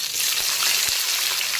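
Chopped onion dropped into hot oil with lightly fried whole spices for a fish-head rice dish, giving a loud, steady sizzle that fills the whole moment, with a couple of soft low knocks under it.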